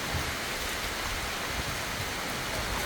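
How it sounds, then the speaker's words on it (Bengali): Rain falls overhead during Cyclone Remal, a thick, unbroken hiss of steady downpour that holds at an even, fairly loud level with no pauses. "বৃষ্টি হইতেছে এদিকে"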